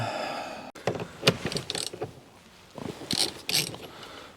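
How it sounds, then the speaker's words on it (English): A big socket unscrews a part on a 90s Mercedes, with a sharp metallic clack, then irregular ratcheting clicks, scrapes and clinks of tools and metal close by. "Then we're gonna get a big socket and unscrew that."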